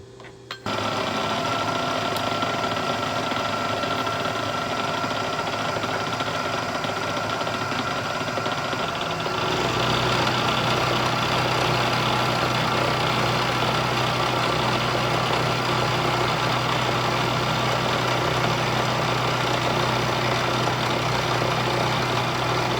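A milling machine, a Kearney & Trecker 2HL, runs continuously while squaring a metal part, a steady mechanical drone with a whining tone that rises and thickens about halfway through as the cut engages.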